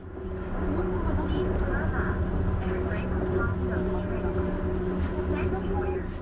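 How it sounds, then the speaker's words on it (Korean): Steady rumbling of Tokyo's Yurikamome monorail crossing the Rainbow Bridge, with a low hum and faint tonal whines, continuous and fairly close, with indistinct chatter underneath. "바로 유리카모메라고 하는 모노레일 열차인데요"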